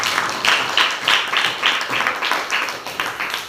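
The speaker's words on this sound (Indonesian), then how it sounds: "kasih tepuk tangan dulu" Pupils in a sixth-grade class give a short round of rhythmic clapping, the claps landing in a fairly regular pulse, fairly faint and without talk.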